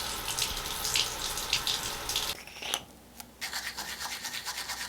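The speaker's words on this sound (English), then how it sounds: "All she ever wants is me to turn on the water for her." A tap runs steadily into a sink, a broad hissing splash that briefly drops away mid-way before the flow resumes, near and alone.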